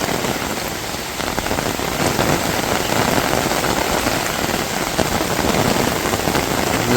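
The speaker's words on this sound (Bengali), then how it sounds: "আজকে একবারে মুষলধারে বৃষ্টি নামছে।" Torrential rain pouring down in a village, a thick unbroken roar of drops on surfaces, close and loud throughout, no one speaking.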